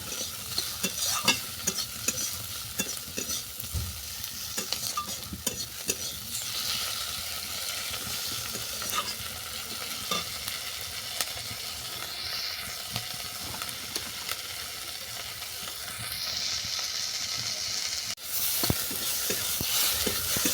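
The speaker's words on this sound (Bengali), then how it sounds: "কয়েক টুকরো কুচানো টমেটো টমেটোটাকেও ভালো করে ভেজে নিচ্ছি" Chopped tomatoes fry in a karahi after garlic and green chilli, for a rustic Bengali betua greens bharta; a steady close sizzle with stirring scrapes runs throughout, with no talking.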